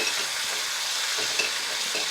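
Steak sears in a hot pan while being basted with its fat, giving a steady close sizzle and crackle with no one talking.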